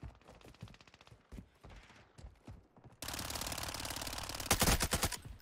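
Automatic gunfire in Warzone 2 rattles in rapid bursts, starting as scattered shots and then swelling into a loud, dense stream of fire with sharper cracks near the end.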